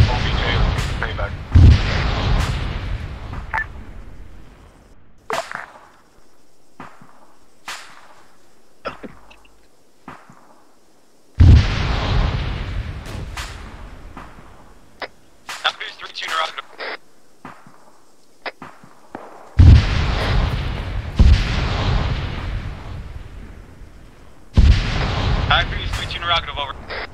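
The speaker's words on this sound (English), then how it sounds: "We're taking fire across the ravine to our northeast." Heavy gunfire and booming explosions in the military game ArmA 3, with loud repeated blasts and rattling shots in bursts, separated by quieter gaps, with radio-style voices talking at times.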